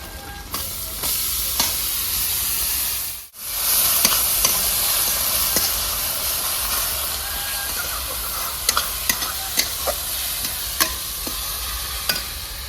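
Fried onions sizzle steadily in a pan as garlic and green chili paste are stirred in for a rustic village-style mutton and potato curry, with scattered scraping clicks from stirring and a brief dropout near the middle.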